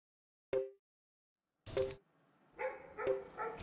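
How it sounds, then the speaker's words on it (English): A dog barks in short separate bursts from some distance away, with a single yap, a pause, then several quick barks in a row, and no one talking over them. "The dog's still barking in the background."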